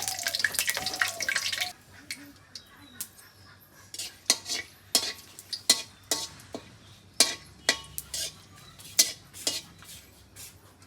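A metal spoon scrapes and knocks against a cooking pot while curry is stirred, with a clattering rush of dishes at first and then irregular sharp clinks spaced through the clip, and a faint voice now and then.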